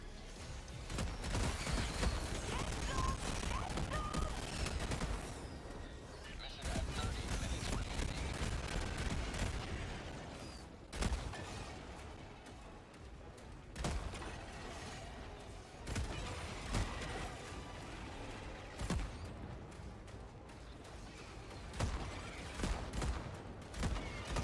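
Sustained heavy automatic fire from a giant mech's anti-aircraft guns in Helldivers 2, loud dense bursts with brief pauses and mechanical clanks over roughly twenty seconds of chaotic combat.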